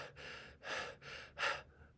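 Shallow, fast breathing of a stressed person: five quick, rushed breaths in two seconds, each a short breathy burst with a gasping edge, close and fairly quiet with no talk.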